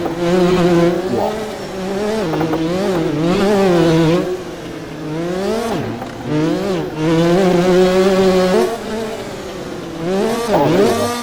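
Two-stroke dirt bike in the MX Bikes game revving hard, its buzzing pitch climbing and dropping in repeated throttle blips, loud and close with no talk.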